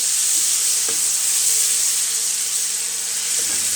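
Garlic sautéing with fried onions in a pan for a dhaba-style mash daal, a steady loud sizzle hissing throughout with a couple of brief stirring scrapes.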